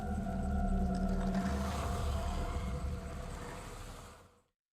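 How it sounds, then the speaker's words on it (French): Inside a danger zone in the video game Death Stranding, eerie organic, liquid sounds swell around the listener, a moaning, whale-like tonal drone with gurgling undertones that holds steady, then fades to silence. "lorsqu'une zone dangereuse approche, des sons presque organiques et liquides enveloppent l'espace."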